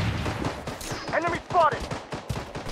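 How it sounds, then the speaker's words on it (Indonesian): Gunfire rattles through a Blood Strike match. Sharp shots and quick bursts are scattered around the players' talking, and a couple of ringing, whistling tones are mixed in. "Ada suara tembakan."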